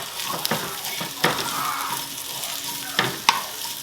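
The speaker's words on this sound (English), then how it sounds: "saute the onions" Onions sauté in leftover oil in a pan while low-carb red enchiladas are made. A close, even sizzle carries throughout, broken by several sharp clicks and taps of a utensil on the pan.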